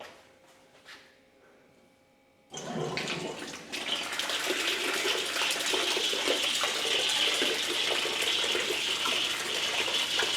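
Water gushes from a nozzle on an onboard camping water system into a bucket, starting abruptly after a quiet moment and then pouring as a loud, steady, hissing stream.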